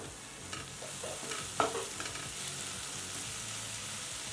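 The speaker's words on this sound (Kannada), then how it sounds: "ಟೊಮೆಟೊ ಎಲ್ಲ ಚೆನ್ನಾಗಿ ಬೇಯಿಸ್ಕೊಳ್ಳೋಣ ಲೋ ಫ್ಲೇಮಲ್ಲೇ ಬೇಯಿಸ್ಕೊಳ್ಳೋಣ" Finely chopped tomatoes cooking over a low flame in a pan, a soft, even sizzle with a few light stirring scrapes near the start, fairly quiet throughout.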